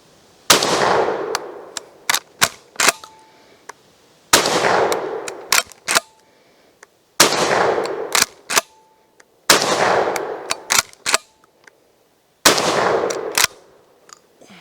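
A Real McCoy PAS 12 pump shotgun fires buckshot outdoors in five loud blasts spaced a few seconds apart, each followed by the clack of the pump action and a brief ringing echo.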